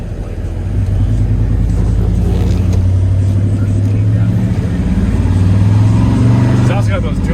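A 1994 Chevrolet Silverado pickup with dual exhausts drives off and runs through its gears, a steady low engine rumble rising as it accelerates, with people talking over it inside the cab.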